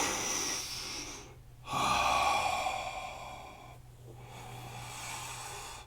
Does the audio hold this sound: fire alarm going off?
no